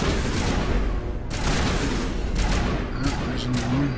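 Dense, continuous gunfire in a sci-fi action role-playing game, sustained bursts and rapid volleys that are loud and close throughout, with brief dips between bursts.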